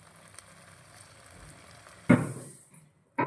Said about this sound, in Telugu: బాండి తీసుకొని ఇలా ఆయిల్ అప్లై చేసుకొని పొటాటో స్లైస్ని ఇలా పెట్టుకోవాలండి